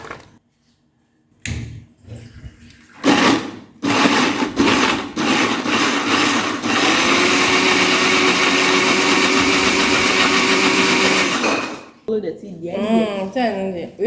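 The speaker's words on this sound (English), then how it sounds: "So we're supposed to grind this. Ideally. Yes. But we don't have it. So we'll be blending it." A blender grinds gari and corn flour in a steady, loud whirring burst lasting several seconds, preceded by knocks and handling clatter and followed by people talking nearby.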